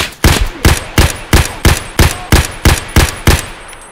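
Loud, close gunfire from the video game Escape from Tarkov: about nine sharp, evenly spaced shots in a steady rhythm, with no talking.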